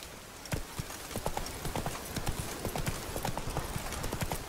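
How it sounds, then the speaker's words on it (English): Horse galloping in The Witcher 3 video game at night, rhythmic hoofbeats thudding steadily and fairly close over a soft ambient background, with no talk. "Run, Roach."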